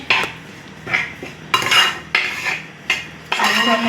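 A utensil stirs and scrapes food around a metal cooking pot in a Kerala kitchen, about six distinct clattering strokes at an uneven rhythm, close and fairly loud with no talking.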